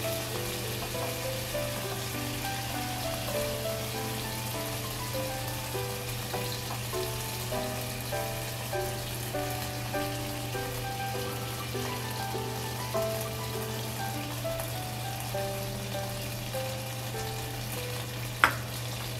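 Scallops fry in a pan with a dense, steady sizzle and crackle that runs throughout. One sharp clink comes near the end, and no one speaks.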